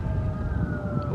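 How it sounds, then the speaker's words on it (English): Several police sirens wailing at a distance along a Gulf Coast roadside, their steady tones carried over a low rumble of traffic, continuous and moderately loud with no talk. "I hear lots and lots and lots of police sirens right now."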